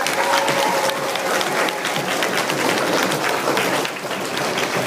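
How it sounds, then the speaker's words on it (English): An audience at a youth presentation on Tourette syndrome gives a round of applause, dense continuous clapping from a crowd that holds steady and eases slightly near the end. "Let's give her another round of applause."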